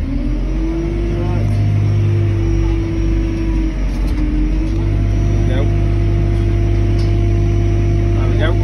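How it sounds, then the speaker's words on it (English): Forklift engine running on a bricklaying site, a loud, close, steady low rumble with a sustained drone, rising slightly in intensity partway through. "this video will be me driving the bastard forklift"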